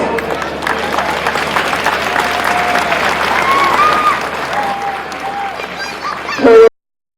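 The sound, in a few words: applause for both teams at a football final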